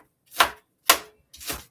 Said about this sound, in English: So I'm cutting up our green onions